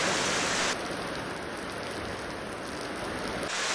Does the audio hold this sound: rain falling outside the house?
yes